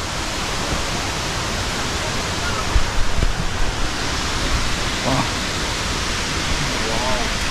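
Langvoku Waterfall in Karbi Anglong, Assam, roars as a steady, dense wash of falling water heard from close by, constant throughout with only faint scattered sounds over it.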